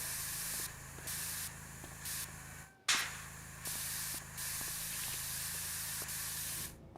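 Metal cleaner sprays from a nozzle in bursts of steady broad hiss, several pulses broken by a short pause and a sharp click, fairly close and loud with no one talking.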